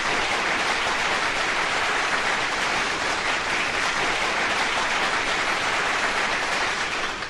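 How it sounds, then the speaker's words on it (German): Sustained applause from a crowd fills the whole stretch as a dense, steady clapping roar at even loudness, with no voices standing out. "Da hat er sich doch einen Applaus verdient."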